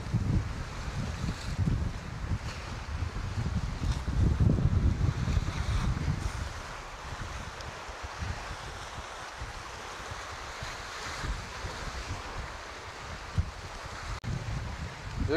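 Seaside wind buffets the microphone in strong rumbling gusts, loudest early and then easing to a steady blustery roar, with faint waves underneath on a Busan shore where someone is fishing for horse mackerel.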